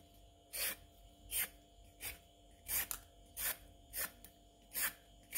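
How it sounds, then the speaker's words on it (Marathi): A peeler scrapes the skin off a fresh cucumber in about eight short rasping strokes, evenly spaced and close by in a quiet kitchen. "आपण 2 काकड्या घेतलेल्या आहेत, त्याची आपण साल काढून घेणार आहोत."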